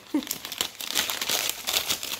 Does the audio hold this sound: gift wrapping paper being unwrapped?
yes